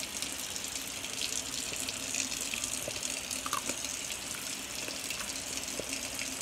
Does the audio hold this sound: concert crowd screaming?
no